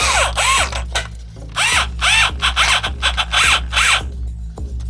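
A power drill bores screw holes through a wooden guitar pedal board, repeated short whirring bursts with rising and falling pitch, loud and close with no talk.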